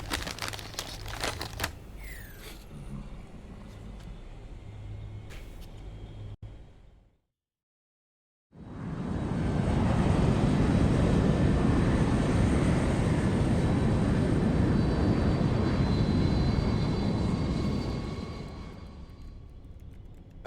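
Aircraft in flight in Metal Gear Solid 4, a broad rushing engine roar that fades in after a brief silence and holds steady and loud, preceded by rustling and crinkling game sounds.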